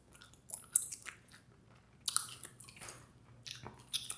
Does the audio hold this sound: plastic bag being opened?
no